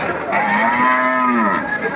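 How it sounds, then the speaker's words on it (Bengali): One long, deep moo from a large Friesian cow close by at a cattle market in Joypurhat, rising and falling over about two seconds. "সামনে একটা বিশাল গরু পাইছি"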